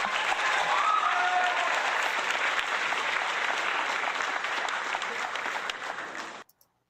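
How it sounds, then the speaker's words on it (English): A studio audience breaks into steady applause during a comedy podcast taping, loud and continuous with no talk, fading out abruptly near the end. "So quick round of applause for getting the hell out of Florida."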